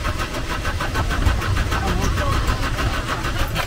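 A car engine cranks and runs, a loud steady rumble with rhythmic pulsing close by, while people talk over it.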